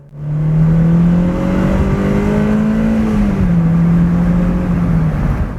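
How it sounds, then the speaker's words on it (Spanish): A Toyota MR2 Spyder roadster with a manual gearbox accelerates, its engine note holding a steady, loud drone that climbs slightly and then dips, as at a gear change, and carries on for several seconds with no talk. "Acelerando."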